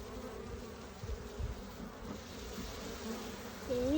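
Honeybees from an open hive swarm around during a beginners' inspection, a steady close buzz that swells as the disturbed bees grow agitated, with a brief louder whine near the end.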